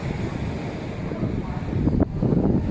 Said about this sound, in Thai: โอ้ยลมแห้งพี่น้อง ขออภัยเด้อพี่น้อง